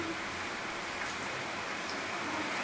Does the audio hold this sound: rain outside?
yes